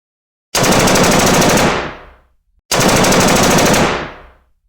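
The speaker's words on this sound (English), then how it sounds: "So apparently Trump and Obama got shot and had to go." Loud close automatic gunfire comes in two long sustained bursts, each ending in a fading tail, separated by a short silence, with no voices.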